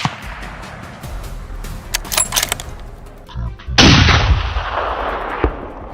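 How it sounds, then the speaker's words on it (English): A loud gunshot cracks out, sending a herd of wild boar running across snowy hillside fields, followed by a long broadband rush of sound as the animals scatter, with a few sharper bangs earlier on. "The sudden gunshot sent shockwaves through the herd"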